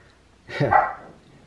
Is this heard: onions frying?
no